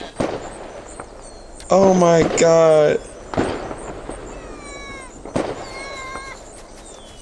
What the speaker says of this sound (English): Oh, they're throwing off fireworks for the new year.